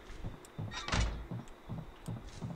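A door is kicked in the horror game Horrorfield, producing a series of muffled, heavy thuds at a steady rhythm, about two per second, with one louder impact.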